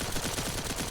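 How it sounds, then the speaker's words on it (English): Gunfire from the Peacemaker weapon in the video game The First Descendant, a dense, continuous rattle of rapid shots across one second, loud and close, no voices. "So there's our last stack, and we're going to shoot."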